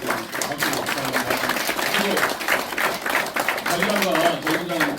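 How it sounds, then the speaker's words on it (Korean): Audience applause at a joint press conference announcing a party merger, a steady wash of clapping filling the room for several seconds, with voices mixed in underneath. "우리 같이 새로운 박수 부탁드립니다."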